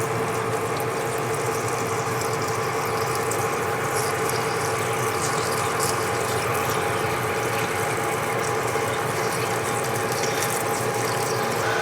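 A machine cutting a broken skid steer part at a slow 125 RPM gives a steady mechanical grinding drone with a clicking, ratchet-like texture, continuous and fairly close with no talk.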